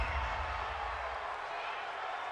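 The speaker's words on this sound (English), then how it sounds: "Well, this crowd does not like that call." Football stadium crowd at an NFL game, Houston Texans versus New York Jets, reacting to a penalty call: a dense, steady roar of many voices that holds at an even level for the whole stretch, with no distinct single voice standing out.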